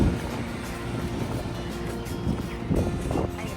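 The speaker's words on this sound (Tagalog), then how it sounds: "Ay, grabe ang hangin. Dinadala ako." Strong wind gusts outdoors on Al Reem Island, buffeting the microphone with a loud, rough low rumble that surges near the start and again toward the end, with a voice faintly present beneath it.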